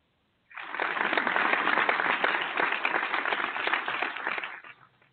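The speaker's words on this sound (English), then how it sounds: "Applaud him." A canned applause sound effect on a barbershop talk radio show, a steady wash of many hands clapping that starts abruptly, holds loud and even for about four seconds, then fades out.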